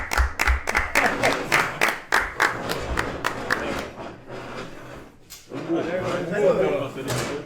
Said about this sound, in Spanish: Un fuerte aplauso a nuestro querido Perico Perico Negre.